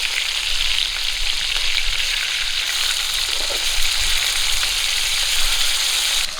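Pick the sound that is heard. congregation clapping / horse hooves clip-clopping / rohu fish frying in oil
rohu fish frying in oil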